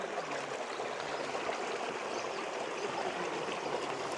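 Water in a small, shallow, clear stream flowing beside a hiking trail, a steady close rushing and trickling that fills the whole stretch with no pause and no talk.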